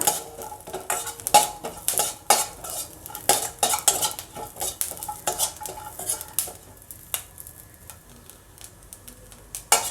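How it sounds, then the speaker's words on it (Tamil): Grated coconut roasts in hot oil in a kadai, with steady close stirring and scraping clatter of a metal spoon against the pan and a soft sizzle underneath, no voices. "எண்ணெய் சூடாக எடுத்து வச்சுருக்கிற தேங்காயையும் லேசாக வறுத்து எடுத்துக்கலாம்."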